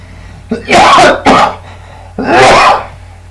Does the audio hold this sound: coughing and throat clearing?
yes